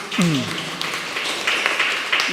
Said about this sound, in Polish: brawa dla pana prezesa